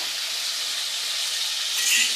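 Katla fish frying gently in a pan of oil, a soft, even sizzle and hiss held close and steady, swelling slightly near the end, with no voices.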